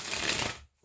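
A tarot card deck being shuffled, a brisk riffling flutter of cards close by that runs for about half a second and then cuts off to near silence.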